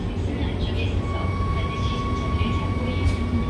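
A KTX-Sancheon high-speed train bound for Gangneung pulls into Cheongnyangni Station, giving a loud, steady low rumble with a sustained electric whine close by, while people talk over it.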